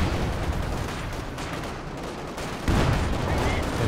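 Machine gun fire in a Company of Heroes 2 match crackles in dense, steady bursts, and a louder, heavier burst kicks in near the end.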